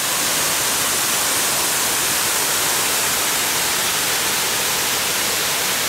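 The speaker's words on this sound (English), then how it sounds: "beautiful waterfall." A waterfall beside the Appalachian Trail roars as a dense, steady hiss of rushing water, loud and constant throughout with no voices.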